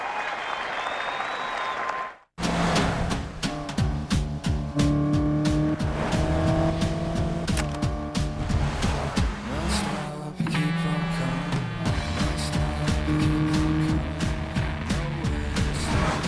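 In a TV commercial, a Mitsubishi Lancer with sport-tuned suspension and magnesium paddle shifters laps a track. After a brief cut, engine roar and repeated tire squeals ring out loudly and continuously.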